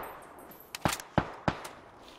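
Gunfire in the battle royale game PUBG: three or four sharp, separate shots ring out a few tenths of a second apart, punchy and moderately close over a quiet background.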